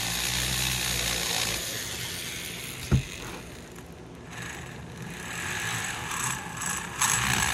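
A hand grinder ports a 2001 Honda CR125 two-stroke engine, a fairly faint high whine rising and falling as it works the metal, with one sharp knock partway through and no speech.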